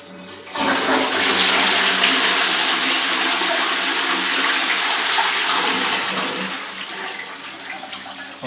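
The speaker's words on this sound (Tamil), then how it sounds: "வாங்க ப்ளஸ் பண்ணி பார்த்துருவோம்" A newly fitted western toilet flushes with a loud, close rush of water that starts abruptly and stays steady for several seconds, then slowly eases as the tank refills.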